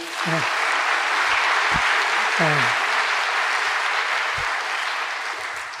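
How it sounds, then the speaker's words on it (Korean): Applause from a church congregation at a lecture, a broad steady wash of clapping filling the whole stretch, with a few faint voices and brief vocal sounds near the start and middle. "박수 한번 해요"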